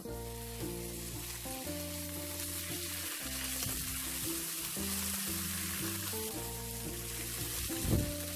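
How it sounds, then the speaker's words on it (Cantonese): A tablespoon of broad bean paste sizzles in a wok over low heat, a continuous, even frying hiss with occasional stirring, ending in a brief louder scrape; no voices. "爆一爆呢個豆瓣醬。"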